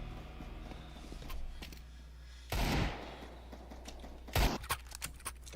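Video game gunfire: two loud, close bursts of shots stand out against a steady low background hum, followed by a scatter of quieter clicks and taps.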